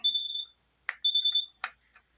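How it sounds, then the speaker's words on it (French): Tornado alarm on a home weather station, giving high electronic beeping bursts in two pulsed trains separated by a gap. Short clicks and taps fall between the bursts in an otherwise quiet room. "Et c'est parti, l'alarme tornade est là."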